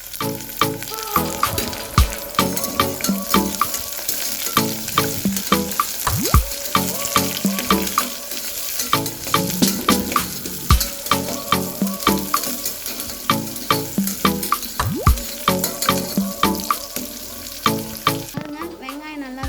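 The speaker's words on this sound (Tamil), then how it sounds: "வெங்காயம் நல்லாவே வதங்கிடுச்சுங்க" Onions sautéing in a pan while making chana biryani, with steady frying sizzle and repeated stirring scrapes throughout, close and fairly loud, no talking.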